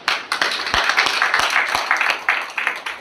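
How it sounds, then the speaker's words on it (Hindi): An audience at a property company gathering in Agra claps loudly and close, with sharp individual claps standing out over a continuous wash of applause. "जोरदार ताली होनी चाहिए"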